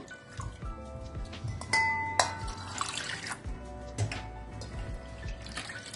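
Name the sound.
washing lentils (dal) in water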